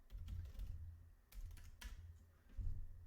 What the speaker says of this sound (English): You can actually type into here as well.